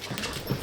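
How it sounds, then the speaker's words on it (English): A dog close by gives a brief yelp or bark amid the clatter of paws moving around on a hard floor, all over in under a second. "Crazy dog."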